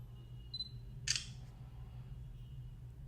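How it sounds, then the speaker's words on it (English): A single soft camera shutter click from a Sony Xperia E3 phone, close and brief, set against quiet room hum. "Not the fastest shutter,"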